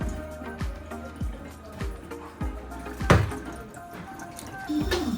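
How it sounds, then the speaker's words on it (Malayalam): Water is poured off soaked rice from a cooking pot, heard as repeated dull thuds and trickling drips with one sharper clatter midway, close and fairly quiet. "നമുക്ക് ഈ പാത്രം, ഈ വെള്ളം കളഞ്ഞിട്ട് നമുക്ക് എടുക്കാം"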